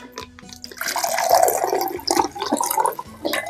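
Vodka and lavender syrup cocktail poured from a shaker into a cup, a steady gurgling liquid stream with some clinking, loud and close, lasting several seconds.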